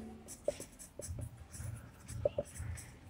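A marker or chalk scratches out short strokes on a board during a topology lesson, faint, brief squeaks and taps spaced irregularly under a low background hum, with no speech heard.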